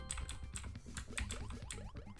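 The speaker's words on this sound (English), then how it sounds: "all you can hear is my keyboard, because my keyboard is mechanical" Rapid clacking of keys on a mechanical keyboard, a dense burst of close, crisp keystrokes in quick irregular rhythm with no talk over it.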